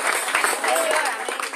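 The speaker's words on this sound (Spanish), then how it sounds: "Suelte ese aplauso y diga amén." A church congregation bursts into applause during a sermon, a broad wash of clapping layered with cheers and a preacher's voice, loud and close.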